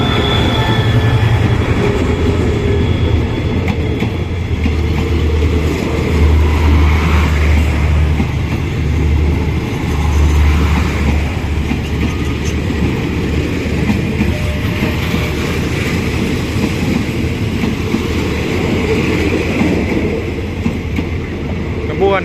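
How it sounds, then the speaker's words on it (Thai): Express train 172 from Sungai Kolok to Bangkok Aphiwat, hauled by a diesel locomotive, rolls through Chumphon station in southern Thailand, a loud continuous rumble with clattering wheels and faint squeals that persists throughout. "อีกขบวนหนึ่งนะครับ เป็นขบวนรถเร็ว 172 สุงไหงโกลกกรุงเทพอภิวัตนะครับ"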